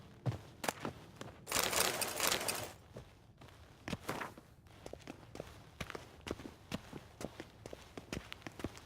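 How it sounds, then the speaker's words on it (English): Footsteps in The Witcher 3, a run of close, crisp steps in a steady walking rhythm with a brief rustling swell early on, then a quieter pace of regular treads. "Footsteps."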